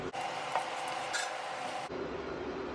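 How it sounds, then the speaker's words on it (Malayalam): Grated coconut stirred into tuna fish thoran in a pan: soft scraping and light clinks of a spoon against the pan over a faint sizzle, close and steady for a few seconds. "രണ്ടര ടേബിൾ സ്പൂണ് തേങ്ങ ചേർത്ത് അതിൻ്റെ ഒരു പച്ചമണം മാറുന്നേരം വരെ നമുക്കൊന്ന് ഇളക്കണം"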